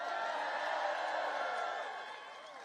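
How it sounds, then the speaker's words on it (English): A large outdoor crowd in Ballina, Ireland, gathered for a US presidential speech, gives a broad wash of applause and cheering. The crowd sounds distant and continuous, then eases off slightly toward the end. "you can clap for him, man"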